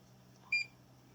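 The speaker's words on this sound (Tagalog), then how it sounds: "Tingnan natin kung ito vacuum alarm" Fieldpiece SM482V manifold vacuum alarm giving a single short, high electronic beep against a faint low hum.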